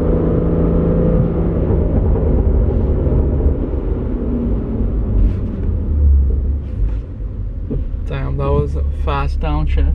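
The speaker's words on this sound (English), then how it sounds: "Fast downshift." Cabin sound inside a BMW F30 with a flashed transmission, with a steady engine and road drone and then a quick run of blips and rising revs as the gearbox downshifts fast near the end.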